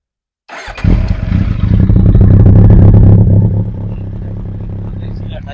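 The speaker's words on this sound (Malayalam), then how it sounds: "നമുക്ക് ഇതിന്റെ എക്സോസ്റ്റ് നോട്ട് ഒന്ന് കേട്ടോ നോക്കാം" A Kawasaki Z800 motorcycle exhaust fires up suddenly and rises to a loud, throaty rev, holds it, then settles to a lower, steady idle rumble close by.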